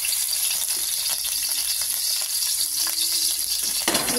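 Garlic sautéing in hot cooking oil for a Filipino dish of ginataang gabi with bagongon, a steady hiss with occasional light clicks and stirring, no speech.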